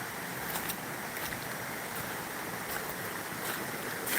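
A river rushes near a waterfall after dark, producing a steady, loud broadband roar of flowing water with no voices, heard throughout at constant level.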